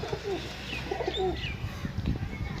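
Pigeons coo close by in soft, rolling repeated calls with a few higher chirps, while a voice talks faintly in the background.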